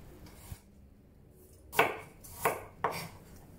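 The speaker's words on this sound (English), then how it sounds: "Rough cut a few cloves of garlic" A knife roughly chops garlic cloves on a cutting board, three distinct firm cuts near the end after a quieter start, close and fairly faint.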